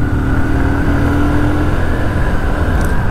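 A new 2023 TVS Apache RTR 160 2V motorcycle rides over a speed breaker, its engine droning loud and close in a steady, rough hum with no talking.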